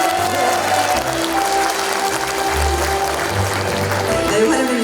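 Dense, steady clapping from an audience at a book launch event fills the whole stretch, welcoming the Busan mayor, with a faint voice underneath.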